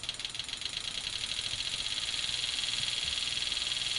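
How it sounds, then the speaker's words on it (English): A Stanley Meyer water fuel injector running in a car engine produces a fast, even rattling pulse with a bright hiss, steady and close, gradually picking up speed. "if you listen to the sound, you can hear the injector speed up"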